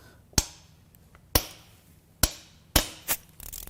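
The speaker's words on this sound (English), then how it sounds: "Let's break some more case bolts loose." Case bolts on a destroyed Subaru WRX EJ20X turbo engine being broken loose during teardown: four loud, sharp cracks about a second apart, close by, followed by a softer knock and faint rattling.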